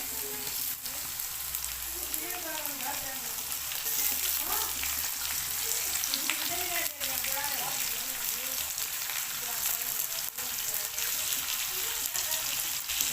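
Tomatoes go into a hot pan of sizzling mixed vegetable curry, a steady frying hiss continuing for several seconds with faint stirring and background voices underneath.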